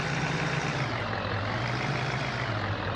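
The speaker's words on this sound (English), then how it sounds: "Alright, I will just park the truck around the corner." A truck in Farming Simulator 15 runs with a steady, loud engine drone and low rumble throughout, with no talk.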